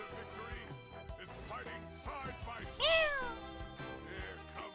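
A cat meows repeatedly in short, clear, close calls with rising and falling pitch, the loudest one near the middle.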